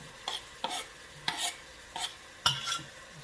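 Diced onions for goulash cook in a pan, with four or five sharp scraping stirs punctuating a soft sizzle over about three seconds.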